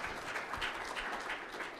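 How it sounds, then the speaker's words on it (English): Scattered audience clapping after a panel discussion on artificial intelligence in government, soft and distant, a brief, even patter of hands with no voices on top. "hopefully a round of applause here for our two panelists, for Stephen and Colleen."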